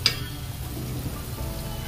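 Garlic and ginger fry in a pan while being stirred, giving a continuous close sizzle with a brief clink of a utensil at the start.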